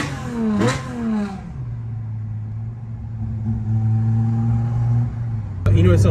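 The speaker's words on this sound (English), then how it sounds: "there's nothing that sounds like a straight 6, especially naturally aspirated." A Datsun 240Z with a naturally aspirated straight-six drives past in a loud, smooth drone whose pitch climbs and settles while accelerating, with a brief voice at the start and a sharp burst near the end.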